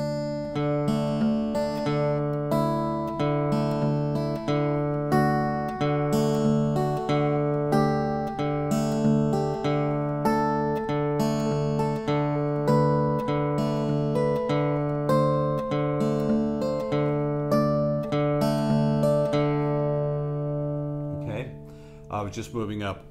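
Acoustic guitar in open-D tuning fingerpicked in a steady pattern, notes ringing and overlapping as a Mixolydian scale moves upward, played alone at a close, even volume.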